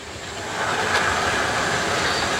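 An OO gauge model saddle tank 0-4-0 locomotive pulling three wagons up a climbing track, giving a steady close whirring rumble that swells slightly and holds, no voices.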